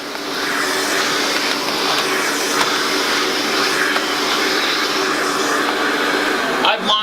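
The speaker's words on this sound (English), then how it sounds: "I've mopped and vacuumed all in one stage." A Rainjet wet vacuum runs steadily as it mops and vacuums a floor, a loud continuous whirring drone that stays even throughout with small bumps near the end.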